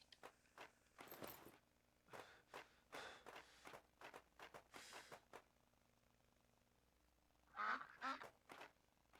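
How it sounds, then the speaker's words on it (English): A duck in the zombie survival game Night of the Dead gives a run of short, fairly faint quacks in an uneven rhythm, then goes quiet before a louder burst of calls. "Is there a duck around here somewhere?"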